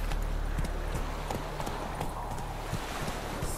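Roach, the horse in The Witcher 3, gallops in a steady clip-clop of hooves, close and continuous over a constant low game ambience.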